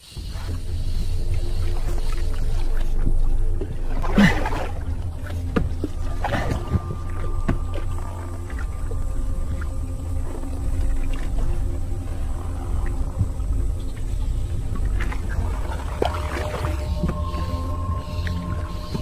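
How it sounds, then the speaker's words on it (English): A canoe paddled alone up a small Amazon stream, with a steady low hum of water around the hull, occasional splashes and knocks of the paddle, and faint tonal calls in the background. "He decides to go in alone, exploring it from his canoe."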